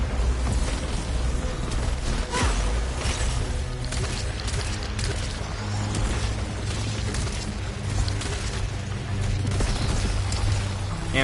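Pyroshell caster weapon fire with secondary explosions in the sci-fi shooter Returnal, a dense, continuous barrage of booming blasts and bursts layered over a steady low rumble and game music throughout.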